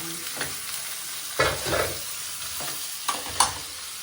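Cumin seeds fry in hot oil while a spoon stirs them in the pan, producing a soft continuous sizzle broken by several scraping strokes and clinks, the louder ones coming in quick bursts.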